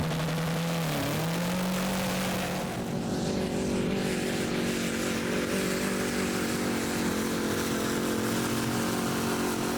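A pulling tractor powered by a 1.9 VW Golf engine roars at a Danish tractor pulling championship round in Frederiksund, a loud, steady engine drone that dips briefly, then climbs and holds strong throughout.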